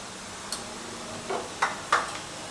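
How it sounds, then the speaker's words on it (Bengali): A spoon stirs salt, turmeric and chili powder into onion rice frying in a pan, giving a few short, faint scrapes and soft clinks spaced about half a second apart in a quiet kitchen. "তো মশলাটা দিয়ে নাড়াচাড়া করে নিয়েছি"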